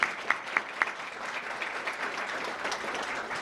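Applause from a luncheon audience at a business chamber event, a burst of claps opening loud then settling into steady, dense clapping that carries through to the end.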